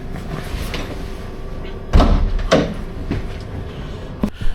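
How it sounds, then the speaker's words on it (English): Train cab door on a London Underground Piccadilly Line train being worked open, with a couple of close heavy thumps and rattles over a constant rumble, and a final clunk near the end. "Oh, I can't get in this door."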